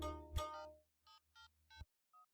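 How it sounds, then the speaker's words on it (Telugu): A mobile phone dials out a call, giving a few short electronic tones in a quick, evenly spaced sequence after a brief bump, quiet and alone. "నా ఫోన్ కనబడట్లేదు. నేను కాల్ చేస్తాను."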